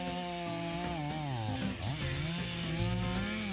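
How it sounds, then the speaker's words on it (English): A chainsaw with a 90cc gasoline engine runs loud and steady, its pitch dipping and rising as the chain bogs into large trees in a forest and revs back up. "Watch how a chainsaw takes down massive trees."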